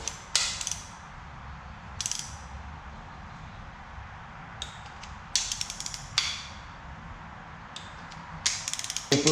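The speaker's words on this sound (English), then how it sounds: "Got me a little baby torque wrench. Set this at 15 foot-pounds." A small torque wrench ratchets as it tightens engine bolts to 15 foot-pounds during the final assembly of an LQ9 engine rebuild, heard as repeated close bursts of rapid clicking separated by pauses, with no talking.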